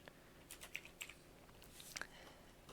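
Quiet, sparse keystrokes tap on a computer keyboard, a handful of isolated light clicks spread over a couple of seconds against a faint background hum.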